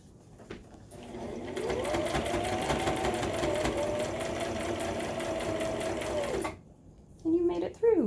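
A sewing machine runs steadily for about five seconds, stitching mask ties through many thick fabric layers with a loud, even mechanical whir. Brief handling noises and a short voice follow once it stops.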